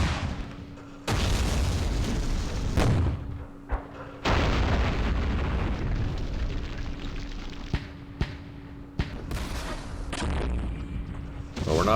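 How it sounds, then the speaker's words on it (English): Direct-fire artillery explosions in the war game Campaign Series Vietnam, set at Dien Bien Phu: several loud, heavy booms with rumbling tails, separated by brief quieter gaps, plus a few sharper crack-like hits. "Direct fire artillery."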